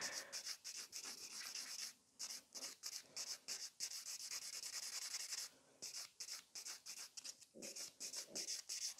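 A fingernail is buffed during neon pigment nail art, making quick, rhythmic, close rubbing strokes in bursts with brief pauses between them. No one speaks.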